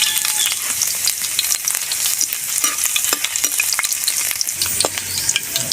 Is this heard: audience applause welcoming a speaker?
no